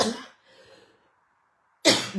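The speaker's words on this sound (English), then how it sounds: "Excuse me, I need to cough." A person with asthma gives a short burst of cough at the start, a brief quiet gap, then another sharp, close cough near the end.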